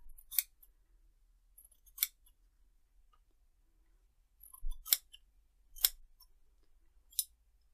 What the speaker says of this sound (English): If you've got anything that's just sticking out over the edge a little bit, just give it a trim